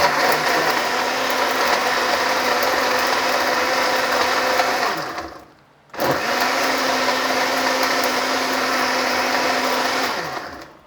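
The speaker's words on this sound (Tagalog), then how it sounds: "Ngayon ilalagay ko sa blender." A blender making black grape juice whirs loudly and steadily, stops briefly for a moment, then starts again and runs until it winds down.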